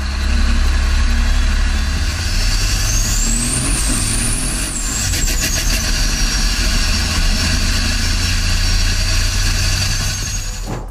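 A heavily modified 1,500 horsepower 13-litre Caterpillar dump-truck engine in the Prospector record truck on the Lake Gardner salt flats, running with a loud, steady drone and rising whine, with brief air-brake-like hissing midway.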